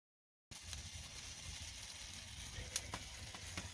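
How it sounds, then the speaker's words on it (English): A steak sizzles in a pan on a stove in a tiny off-grid house, a steady close frying hiss that starts abruptly, with a few brief pops and clicks partway through. "Making a pot of tea and cooking a steak on top of the grill."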